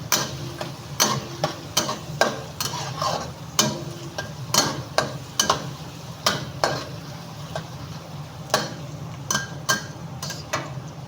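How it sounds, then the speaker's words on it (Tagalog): Onion and garlic sautéing in cooking oil for pork adobo, a steady soft sizzle under repeated sharp scrapes and taps of a utensil stirring against the pan, no talking. "nagisa ko na po ang sibuyas at saka yung bawang. Pa-brownin po natin."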